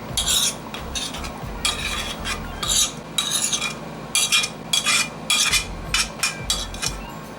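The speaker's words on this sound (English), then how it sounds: "The sauce is now cooked and cooled down, and I'm going to put it in a bowl." Cooked, cooled sauce for mishkaki (East African beef kabobs) being spooned into a bowl, with repeated close scraping and clinking strokes of a utensil against the dish in an uneven rhythm and no talking.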